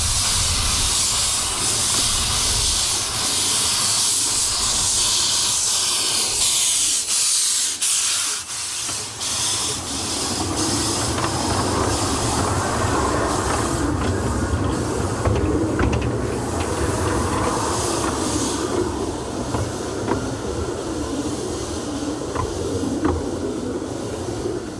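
Small light steam locomotive fitted with a new boiler by Winston Engineering, built as an outline of a County Clare type engine, gives off a loud, steady hiss of escaping steam for the whole stretch, with a brief dip partway through.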